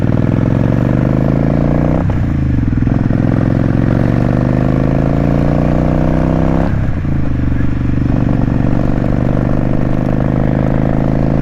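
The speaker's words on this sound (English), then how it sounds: "this bike is much more comfortable to shift on than the other bike" A motorcycle engine roars loud and close throughout the ride, its pitch climbing steadily as it accelerates. It drops briefly at two gear shifts before rising again.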